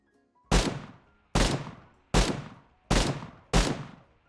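Five single loud shots from an AN-94 Abakan rifle in a video game, evenly spaced about three quarters of a second apart, each a sharp crack with a short decaying tail, alone with no talk.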